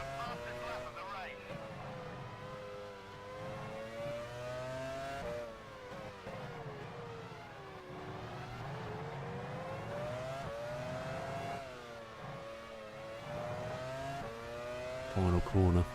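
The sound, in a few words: race car engine revving in Formula One racing video game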